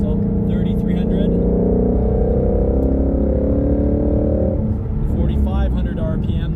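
Ford Mustang Shelby GT350 engine pulling through third and fourth gear, a loud, steady harmonic drone that holds for several seconds before easing off, with other faint noises at the end.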